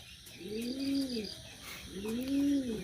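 Pet pigeons cooing close by, two drawn-out rising-and-falling coos in succession, soft and clear over faint background chirps.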